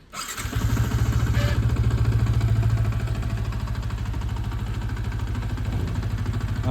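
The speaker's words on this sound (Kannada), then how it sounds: "ಗಾಡಿ ಸ್ಟಾರ್ಟ್ ಆಯಿತು. ಈಗ ಮುಂದೆ ತಗೊಂಡು ಹೋಗ್ತಾರೆ." A new car's engine starts outside a temple, catching after a brief crank and settling into a loud, steady close-up idle hum, with no talk.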